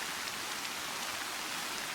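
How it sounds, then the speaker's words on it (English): Steady pouring rain from a story-based video game scene, a dense and continuous hiss at even loudness with no voices. "In the pouring rain"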